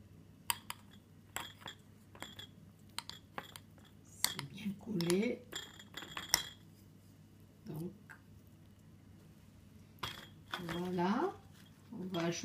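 Kulfi pieces for falooda dropped into glasses, giving scattered light clinks and taps of spoon and glass, some quick and sharp, with a few brief louder scraping bursts between quieter gaps.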